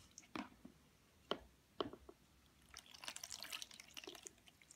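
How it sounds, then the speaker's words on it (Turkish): Water trickling and dripping onto homemade chewing-gum slime, with a few separate quiet splashes early on followed by a longer soft wet patter and squishing, close and faint, with no voices. "Biraz daha su dökelim."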